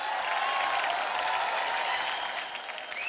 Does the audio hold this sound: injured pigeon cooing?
no